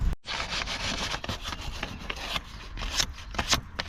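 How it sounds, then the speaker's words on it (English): Light sandpaper rubs around a crusty radiator pipe on a Mercedes 190E 1.8, a close, steady scratchy rasp in repeated back-and-forth strokes with a few sharper scrapes, no talking. "I'm just going to get some light sandpaper, go around it, and yeah, hopefully it gets all of that gunk off."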